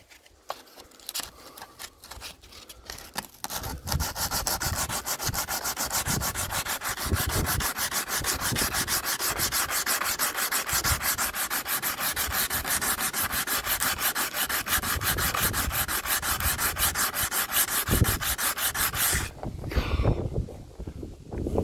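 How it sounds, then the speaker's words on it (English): Sandpaper rubbed by hand over the wooden hull of a small boat under construction, a loud, steady rasping scrub that runs without a break for most of the clip before stopping near the end, with no speech. "Then again, I might need some new sandpaper."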